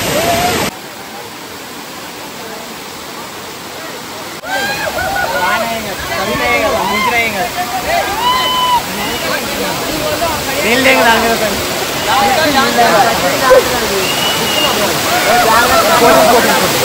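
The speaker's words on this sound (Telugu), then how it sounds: "దీని తర్వాత ఎట్లుంది వాటర్ ఫాల్స్ అనేది చూపిస్తా" Swapna waterfall near Manuguru in monsoon gives a steady, broad rush of falling water, which grows louder partway through while people talk over it.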